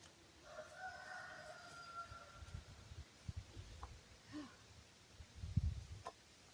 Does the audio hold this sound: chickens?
yes